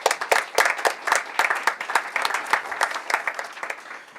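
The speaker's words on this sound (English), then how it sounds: "Give our panelists a big round of applause" Audience applause for a conference panel on EV program ratemaking and regulation: a modest room of clappers, individual claps distinct and irregular, steady then tapering slightly over four seconds, with no talk.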